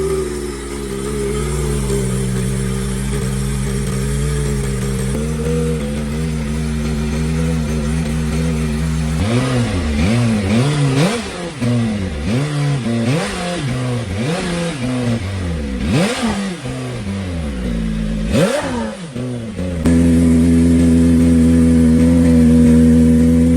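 A BMW motorcycle with an aftermarket muffler idles loudly up close, then revs repeatedly in sharp rising and falling blips before settling back to a steady, throaty idle.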